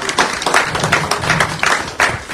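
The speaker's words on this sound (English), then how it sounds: "I beg you to clap for this man." A rally crowd in Edo claps for a man, a short ragged burst of clapping heard close and fairly loud, with no voices over it.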